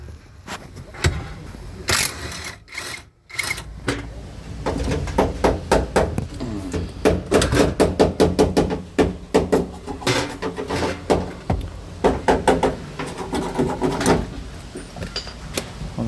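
Bolts are worked out of a Maruti SS80 dashboard with hand tools, giving a long run of close, rapid metallic clicks and ratcheting taps, with knocks and clunks against the panel and no talking.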